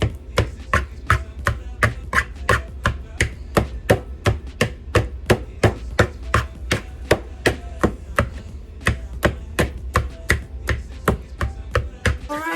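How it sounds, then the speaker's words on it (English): A hand masher presses into ripe banana and avocado in a bowl, sharp regular thuds knocking against the bottom about twice a second, close and steady throughout with no talking. "Okay, I'm gonna use this masher."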